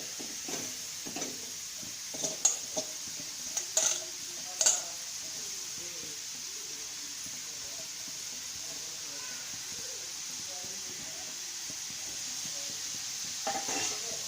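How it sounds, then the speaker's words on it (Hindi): Grated carrots sizzle in a kadhai over a gas flame with a soft steady hiss, broken by a few light scrapes and taps of a spoon stirring, close and fairly quiet. "अब उसमें मैं गाजर डाल रही हूँ, खिसा हुआ गाजर डाल रही हूँ।"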